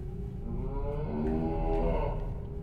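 A cow in a horror video game gives one long, low, drawn-out moo that swells in the middle and holds steady, close and alone.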